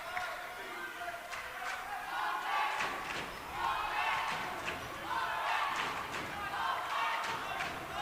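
A college men's basketball home crowd between close rivals cheers and yells in surging waves, with sneaker squeaks and thuds from the court.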